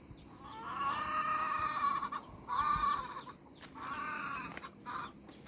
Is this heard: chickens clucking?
yes